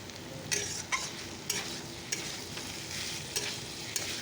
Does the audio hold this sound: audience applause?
no